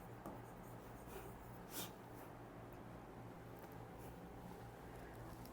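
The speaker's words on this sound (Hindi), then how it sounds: "अब यहां पे हम वुड लिख देते हैं।" A marker or pen writes the word 'would' on a board in faint, scratchy strokes, with short squeaks and brief pauses between them in a quiet room.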